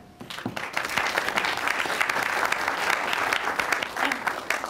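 An audience bursts into sustained applause to welcome a speaker, a dense wash of clapping that swells quickly and holds steady in a hall.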